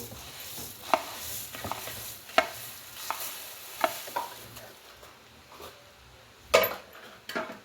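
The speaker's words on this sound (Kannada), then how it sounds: "ಇನ್ನು ಚುರುಮುರಿ ಹಾಕೊಳಕತ್ತೀನಿ" Puffed rice for North Karnataka churumuri (choda) tipped in and mixed with spoon and chilli powder, giving a dry rustling bed with several sharp clinks and taps of the spoon against the bowl, with no talking.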